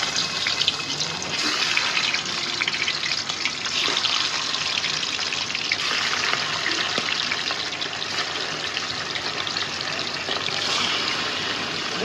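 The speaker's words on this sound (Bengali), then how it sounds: "এই যে আমাদের মুরগিটা সুন্দর করে ভাজা হয়ে গেছে, দেখেন কত সুন্দর করে ভাজছি।" Chicken pieces fry in hot oil in a home kitchen, a steady, dense sizzling hiss that holds at an even loudness for about twelve seconds with no voices.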